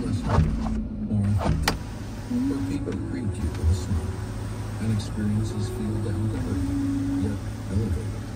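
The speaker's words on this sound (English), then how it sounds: "now we'll shut the shade" Motorized sunroof shade in a 2018 Jeep Grand Cherokee Trackhawk sliding closed, a steady electric motor whine running for several seconds inside the cabin with a few small clicks near the start.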